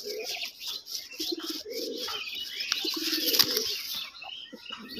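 A pair of large sky-blue Raj Golla pigeons coo in low rolling bursts close by, mixed with light chirps and a brief flutter of wings.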